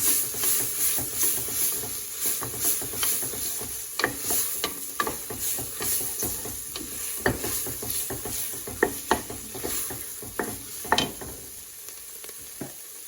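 A spoon stirs tomato paste through sautéing vegetables in a soup pot, giving a soft, low sizzle with intermittent scraping taps and clacks against the pot, close and fairly quiet, with no talking.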